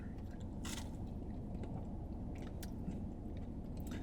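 Close, steady chewing of chicken tenders with dry, greasy breading, soft and moist with only slight crunch, running continuously for about four seconds with no talk.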